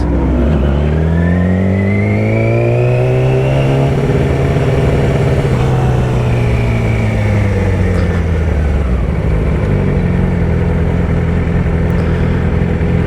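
A Ford Mustang GT500 at a cars and coffee meet revs loudly and close by, its engine note swelling up and falling back in one long sweeping rev before settling into a steady rumble, with no talking.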